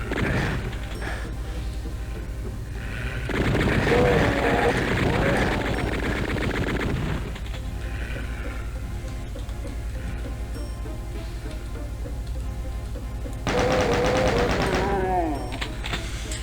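Bursts of heavy gunfire from the super shotgun in Doom 2, with dense booming blasts in two loud clusters over a constant game soundtrack, one stretch near the start and another toward the end.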